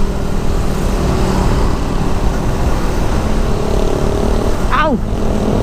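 A tricycle engine runs steadily in Antipolo street traffic, a loud continuous drone with a rapid sweeping whine near the end, mixed with speech.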